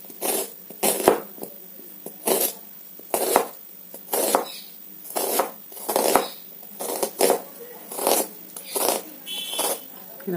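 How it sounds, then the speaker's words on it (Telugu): A knife chops onions thinly on a board in regular bursts of crisp slicing, close and fairly loud, each stroke separated by short pauses, with a voice speaking occasionally. "ఆనియన్స్ అయితే కట్ చేసుకుందాం. సన్నగా కట్ చేసుకోండి ఫ్రెండ్స్."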